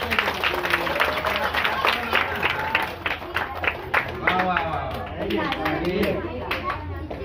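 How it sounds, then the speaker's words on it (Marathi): Clapping from a crowd at a school admission-drive programme for Gudi Padwa, steady and moderately loud throughout, mixed with children's chatter and babble, with a person speaking over it. "टाळ्या वाजवा रे जरा."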